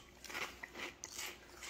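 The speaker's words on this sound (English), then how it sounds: "It's probably because you're not supposed to have crunch when you have an oyster." Someone chews an oyster that crunches unexpectedly, giving several close, faint, irregular crunching bites with no talk.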